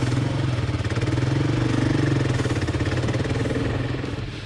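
A Kawasaki KLR 650 single-cylinder engine thumps steadily and loud up close on a climb, a fast even pulsing rumble with light clatter and no talk.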